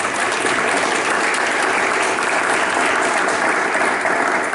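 A crowd claps steadily and loudly to welcome a lecturer from the Faculty of Philology in Belgrade at an outdoor lecture, a dense, continuous applause with no pauses.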